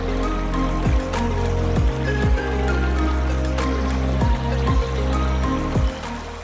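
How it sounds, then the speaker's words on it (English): Big, powerful waterfalls at Plitvice Lakes in Croatia give a steady broadband rush of falling water that fills the whole stretch, with repeated low thumps and bumps sitting under it. "The waterfalls are very mighty and big and a lot of water"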